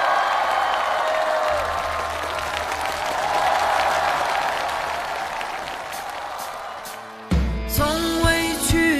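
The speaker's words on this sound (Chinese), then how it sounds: "掌声有请他们。" Audience at a televised performance show applauds to welcome performers, sustained loud clapping and crowd noise for about seven seconds before the music starts abruptly.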